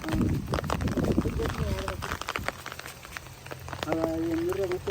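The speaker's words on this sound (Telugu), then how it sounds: "ఇక వర్షం అయితే కంటిన్యూ పడుతూనే ఉంది" Steady rain falling in a village by a pond, a constant wash of drops on surfaces, with voices talking and calling over it.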